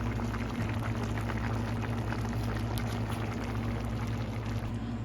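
Vegetables boiling in a pot on a stove, a steady, dense bubbling and rolling simmer that continues without a break, close and even in level.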